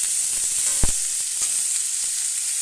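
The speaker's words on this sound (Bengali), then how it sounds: "ঝিঙেগুলো আমি খুব জোর আঁচে নেড়ে নিচ্ছি" Ridge gourd stir-fried over a high flame hisses in a steady, bright sizzle, with a few sharp clinks and scrapes of the spatula against the pan.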